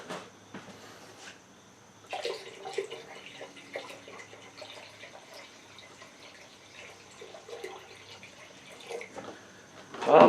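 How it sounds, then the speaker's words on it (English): Water is poured into a pumpkin rum mixture being made inside a pumpkin, a faint trickling and dripping that comes in and out over several seconds, ending with a louder splash. "I do have to add more water into it"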